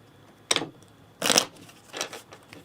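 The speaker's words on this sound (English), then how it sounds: "I actually have to shuffle, so I will do that." A deck of Dominion cards being shuffled at a tabletop game, giving three short papery bursts of riffling and card handling, close and fairly quiet.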